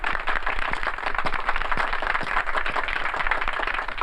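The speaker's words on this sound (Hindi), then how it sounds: "तालियां" A live audience at a comedy show claps and cheers in a dense, loud, continuous wave of applause that fills the room.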